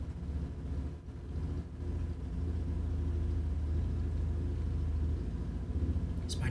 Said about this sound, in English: It's my neighbor across the street idling his motorbike.